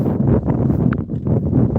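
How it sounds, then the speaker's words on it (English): Strong wind buffets the microphone outdoors beside the water, a loud continuous low rumble with gusting swells and brief dips, no one talking. "It's a little windy out here."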